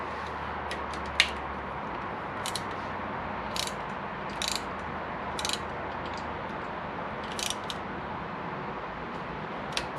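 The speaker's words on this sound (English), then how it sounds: "We put that in, and we torque it down." Torque wrench tightening an OEM shift support bolt on a Yamaha Tenere 700, heard as faint, scattered ratcheting clicks over quiet background hiss with no talking.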